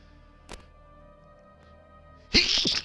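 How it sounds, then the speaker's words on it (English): A single short sneeze bursts out near the end after quiet background, loud and close, with a brief breathy tail. "big sneeze coming"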